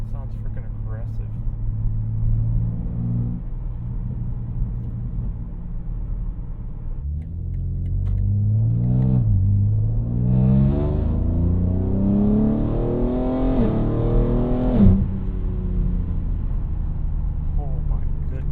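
BMW G80 M3 Competition engine rumbles at cruise, then revs up in a rising, aggressive acceleration heard from inside the car, loud and close, with a voice speaking over it.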